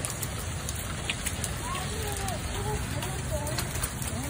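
Hail falls during a storm in Texas, a dense and steady crackling patter that stays close and constant throughout, with a faint voice underneath.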